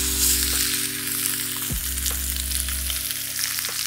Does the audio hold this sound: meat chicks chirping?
no